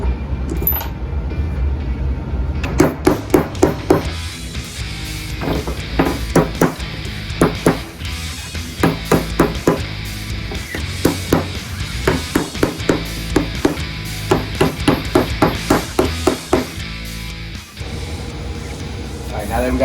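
Repeated sharp hammer blows drive furniture rivets into a movie-scale Ecto Containment Unit cabinet, landing in irregular bursts of close, loud knocks with workshop clatter between them.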